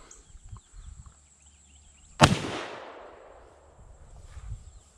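A single sharp rifle shot from a .30-30 Winchester firing hard cast or Core-Lokt bullets cracks outdoors after quiet rustling, followed by a long decaying echo rolling away.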